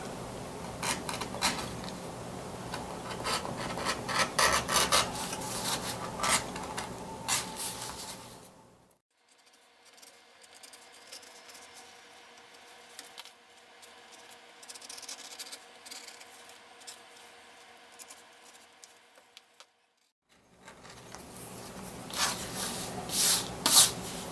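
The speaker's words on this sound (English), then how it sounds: "I'm going to go ahead and bevel these edges" A leather knife sheath for a Buck 119 having its edges beveled by hand gives close, scratchy scraping and rubbing strokes. A stretch of quieter, duller scraping sits between louder bursts at the start and end.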